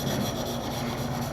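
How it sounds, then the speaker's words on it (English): Steel chisel back rubbed back and forth on a coarse oil-stone during sharpening, a close, continuous gritty scraping with a quick rhythmic pulse and no talk. "So definitely remember to work the back down on your stone, especially on your coarser stones."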